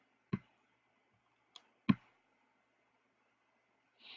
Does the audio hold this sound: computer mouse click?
yes